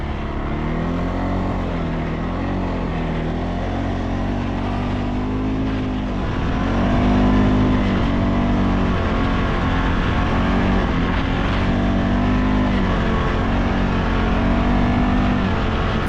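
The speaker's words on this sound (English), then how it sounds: "it was warm enough for a rip on the four-wheeler through the snowy trails." Four-wheeler ATV engine riding through snowy trails, a loud continuous motor drone that rises and falls as the rider throttles up and eases off, close and steady throughout with no talking.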